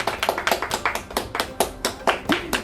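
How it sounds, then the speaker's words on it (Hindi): Children clapping happily, a brisk string of about a dozen sharp, close hand claps in an uneven but lively rhythm, with no talking. "मैं जरा दिखाना चाहती हूँ कि कैसे बच्चे कितनी खुशी के साथ जो हैं वो तालियां बजा रहे हैं"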